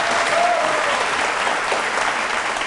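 Studio audience applauding steadily throughout, a dense, sustained clapping from a crowd at a televised courtroom-style interview show, with no speech over it.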